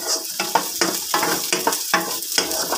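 Onions cook half-done in a pan, giving a steady close sizzle broken by repeated stirring scrapes at a rhythm of about two per second, with no talking.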